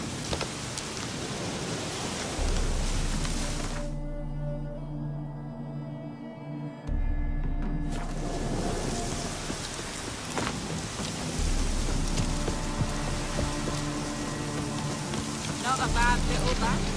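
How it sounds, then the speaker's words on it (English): Steady rain with low rumbles of thunder in a stormy scene from The Witcher 3: Hearts of Stone, a continuous wash of downpour that drops out briefly before resuming, with music and game sounds mixed in. "Looks like rain."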